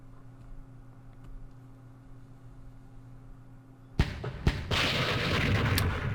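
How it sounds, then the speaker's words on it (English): Mortar fire in the Vietnam war game Campaign Series Vietnam comes after a quiet hum, as two sharp booming thuds followed by a sustained rumbling barrage of impacts. "My mortars are working."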